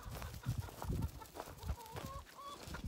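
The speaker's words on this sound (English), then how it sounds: "Come on, chickens." Several chickens on a farm cluck softly and intermittently nearby in winter, low murmuring calls with a few higher notes, quiet and unhurried.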